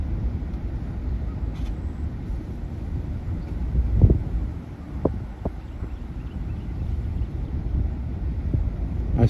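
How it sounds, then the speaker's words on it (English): Steady wind buffets and rumbles into the microphone during a drive around Rockport, a dull continuous roar with a few brief thumps and no talking. "Here comes the wind. The wind is not my friend when I'm making YouTube videos."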